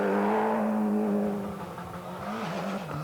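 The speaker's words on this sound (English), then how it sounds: "immediately the fastest of the runners through the first stage in his Escort Cosworth" A Ford Escort Cosworth rally car powers through a stage, its engine note loud and close, rising and dipping with a brief tyre squeal as it passes.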